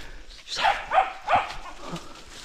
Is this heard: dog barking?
yes